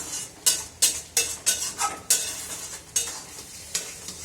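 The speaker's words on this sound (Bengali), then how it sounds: "যখনই সুজি ফোটে তখনই ইয়ে হয়, গায়ে ছিটে পড়ে" Semolina bubbling thickly in a pan spits and pops while a spoon scrapes and stirs it, giving sharp, close, evenly spaced strokes over a steady sizzling hiss.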